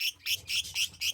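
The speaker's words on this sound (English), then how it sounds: "Don't let it squawk and stress you out." A budgie squawks repeatedly while held firmly in a hand during sexing and leg banding, giving five sharp, shrill calls in a steady rhythm, close and fairly loud.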